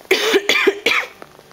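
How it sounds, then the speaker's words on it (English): Three harsh, close coughs from one person in quick succession, each a sharp burst with a throaty tail, followed by a few faint breaths. "And this cough is really annoying."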